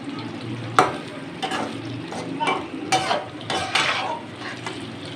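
Fried tinda is lifted out of a kadhai of hot ghee, with spatula scrapes and metal clinks over a soft sizzle, in a series of short irregular strokes.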